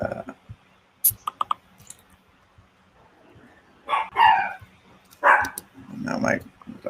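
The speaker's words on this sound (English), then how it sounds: "Now my dog's going nuts." A dog barks in short loud bursts, several sharp yelps spaced across a few seconds, close to the microphone, mixed with some keyboard clicking and a person talking.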